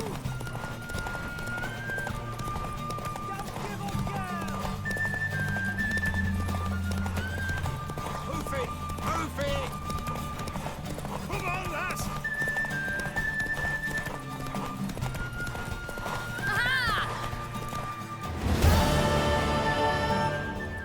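Horses galloping in a race in The Witcher 3: Wild Hunt, with steady rapid hoofbeats running under music for the whole stretch, an occasional whinny, and a louder burst near the end.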